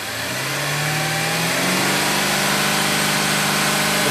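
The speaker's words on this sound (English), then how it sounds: "Let's rev it up as much as you can." A car engine revs up steadily during a hands-on MAF sensor test, its pitch climbing toward about 3,000 RPM and holding as a loud, continuous mechanical roar with no talking.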